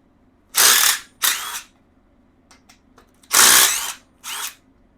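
Cordless power drill or impact driver working on the brake caliper bolts of a Honda Shadow Sabre 1100 motorcycle, four loud close bursts of whirring and ratcheting, with brief faint clicks between them.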